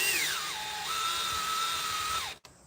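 Battery-powered drill whirring steadily at close range, its pitch dropping and rising as the load changes, then cutting off sharply near the end, with no talk over it.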